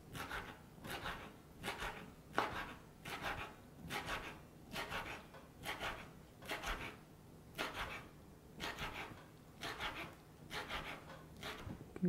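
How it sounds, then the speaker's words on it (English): A knife chops washed herbs finely on a chopping board in a steady, even rhythm of soft, quick cuts repeating over a dozen seconds, close but quiet. "We take them to the chopping board and we chop them up nice and finely."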